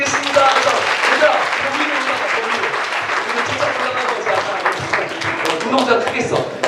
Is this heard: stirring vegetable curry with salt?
no